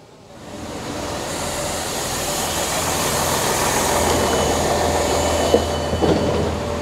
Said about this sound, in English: So we're going to take this train all the way to Greenford now